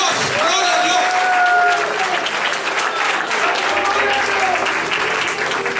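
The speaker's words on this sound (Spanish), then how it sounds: "Den un aplauso fuerte al Señor" Loud, sustained applause fills a church congregation during a Spanish-language worship service, with shouts and voices rising over the dense clapping throughout.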